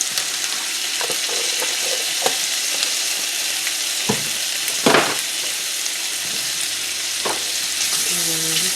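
Garlic and andouille sausage frying in a pan, a loud continuous sizzle with occasional stirring scrapes and soft knocks against the pan.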